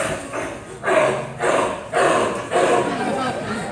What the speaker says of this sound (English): So sometimes sea lions might sound a little bit like this.